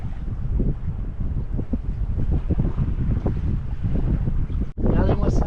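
A sailboat running under sail off the Italian island of Elba, carrying a genoa, with steady wind rush over the microphone and water washing along the hull; the noise holds throughout, briefly cutting out near the end, with no talk.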